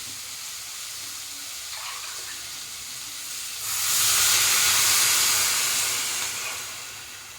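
A steady hiss of water pours into a cooking pot of rice, swelling louder midway and then tapering slightly; no one speaks.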